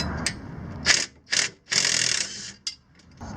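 Wrench working on axle bolts of a Mitsubishi Galant VR4, a series of short ratcheting bursts separated by brief pauses, close and fairly quiet, no talking.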